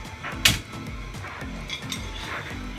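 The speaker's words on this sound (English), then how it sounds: "Put my lid back on that pan over there." A metal lid clinks down onto a pan with one sharp clang, over a steady low kitchen hum.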